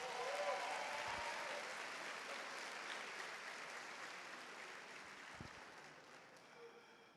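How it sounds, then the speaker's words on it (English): Steady audience applause at the Ginn Academy commencement ceremony, a dense even patter heard from some distance that slowly fades across the clip, with no voices over it. "Let's give him a round of applause."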